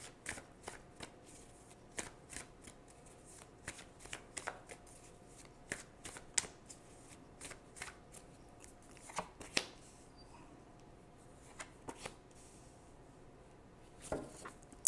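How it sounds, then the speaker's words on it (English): Tarot cards are shuffled and drawn by hand, giving quiet, close, irregular papery riffles and soft card snaps spread across a long stretch, with no voices. "So now I'm going to choose two cards for guidance."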